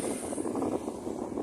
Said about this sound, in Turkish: Gelip giden araçlar var.